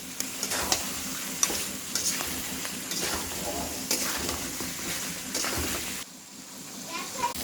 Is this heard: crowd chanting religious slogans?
no